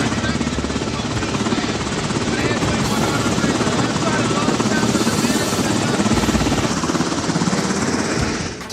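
Coast Guard helicopter rotor chop and engine roar in Alaska, loud and close, steady for the whole stretch with no letup.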